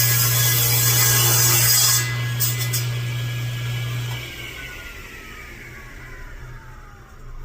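A saw cutting through a board for shelving uprights, a loud steady buzzing drone for about four seconds that then winds down and fades, with no talking.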